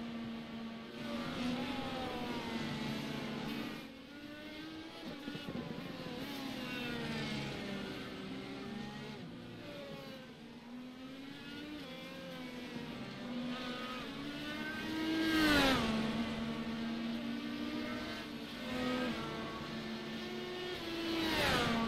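Indy race cars in iRacing at VIR drone past with high, wavering engine whines, several cars overlapping and shifting pitch, one sweeping by louder near the middle before fading.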